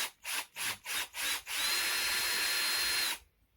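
Power drill driving a bit into a wall while fitting an IKEA Skadis notice board, heard first as four short bursts, then one sustained whine for about two seconds before stopping; close and loud.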